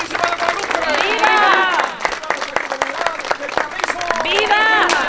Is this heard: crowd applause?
yes